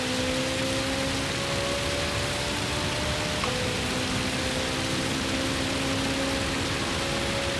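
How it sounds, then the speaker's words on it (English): Rain pours in a sim racing game, a dense, even hiss of falling water that holds steady, with faint tonal engine hums running beneath it. "Oh, listen to that rain come down."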